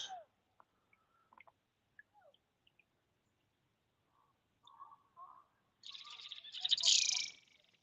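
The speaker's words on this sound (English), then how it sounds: "Some birds attacking each other over here." Birds calling while attacking each other outdoors on the water: scattered short chirps and squeaks, then a loud burst of harsh, overlapping screeching calls near the end, close by and with no talk.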